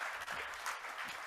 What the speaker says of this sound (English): if we could also have a round of applause for Neil Makija